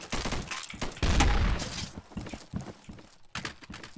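Gunshots in the game Garry's Mod, a rapid burst of loud, sharp cracks followed by scattered shots and clattering hits, densest in the middle, with no talking over them.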